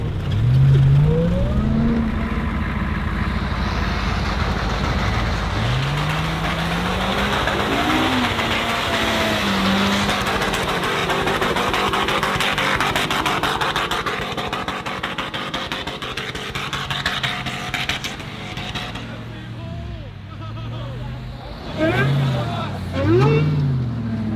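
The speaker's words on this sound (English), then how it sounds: "Chevy made it back here with tires and basically on the rev limiter the whole time" A Chevy truck stuck in deep snow holds its engine near the rev limiter, a loud, sustained, strained roar with rising and falling pitch sweeps, while voices shout over it.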